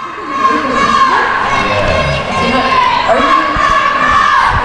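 Loud, sustained cheering and shouting from a small but energetic crowd at a roller derby semifinal, dense excited voices with rising and falling peaks for several seconds.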